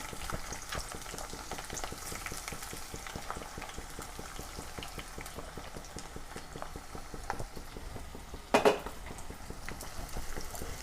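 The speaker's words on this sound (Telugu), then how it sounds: "ఈ బిర్యానీకి ఫ్రైడ్ ఆనియన్స్ కావాలి, వీటిని ఫ్రై చేసుకుందాం" Onions frying in a pan for biryani, giving a dense, steady bubbling sizzle with rapid crackles, close and even in level, with a brief louder clatter near the end and no speech.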